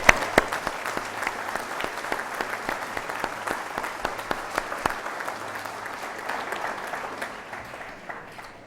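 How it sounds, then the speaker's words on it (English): A college convocation audience gives a sustained round of applause, dense even clapping with a few sharper claps standing out, fading slightly toward the end. "Let's have a round of applause for Charlie Benson."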